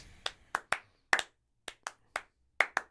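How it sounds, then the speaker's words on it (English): One person claps slowly by hand, about ten crisp, isolated claps at uneven intervals, close and clear against near silence. "I'll clap it slow because it's a long time."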